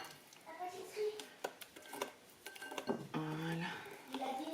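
Christmas sablé cookie dough being stirred in a bowl by a child, giving scattered scraping knocks and clinks of utensil on bowl, with an adult and someone talking over it.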